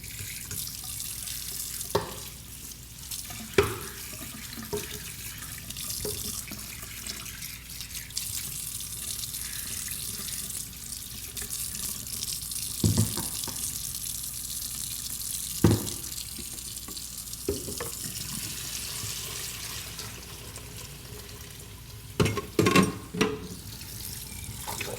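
Tap water runs steadily into a sink while espresso equipment is rinsed, a continuous close hiss with occasional knocks and clinks of parts being handled, and no one speaking.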